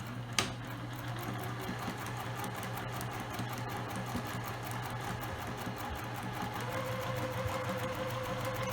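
A sewing machine stitches the seam of a fabric ring bag with a back stitch, a quick initial click followed by a steady mechanical hum and rhythmic needle chatter that shifts pitch slightly near the end.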